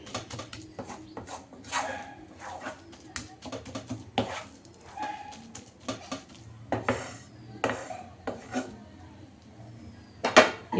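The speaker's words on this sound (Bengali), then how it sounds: "এবারে আরও একটু নাড়াচাড়া করে নিয়ে রান্না করে নিচ্ছি" Paneer grated into a pan is stirred as it cooks, giving scattered scrapes and metallic clinks of a utensil against the pan, fairly close and irregular, with quiet background noise and no talking.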